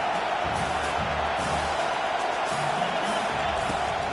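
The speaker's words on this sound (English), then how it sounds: "this crowd trying to help keep them there." Steady stadium crowd roar from a college football video game, with the home fans pressing late in the first half while the opponent is pinned deep in its own end; a continuous dense wash of noise with no talk.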